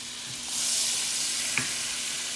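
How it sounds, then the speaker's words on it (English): Onion sizzling in a hot buttered pan, a continuous close frying hiss with one small clink of a utensil partway through and no voices. "So the pan is already hot, so I already put the onion."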